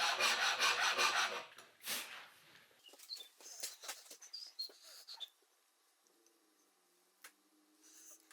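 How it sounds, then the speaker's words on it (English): A handmade file rasping across wood on a workbench, several quick rough strokes at the start, then lighter scraping and tapping that fades into near quiet with a faint tone late on. "Then, a file."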